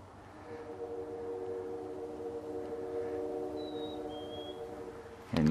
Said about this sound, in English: That's the train on the Quebec side.